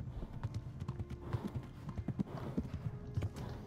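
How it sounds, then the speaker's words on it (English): Quiet, rhythmic clip-clop of a horse's galloping hooves in the video game Kingdom Come: Deliverance, repeating quickly and steadily, with faint ambient noise underneath. "And my horse is running out of stamina."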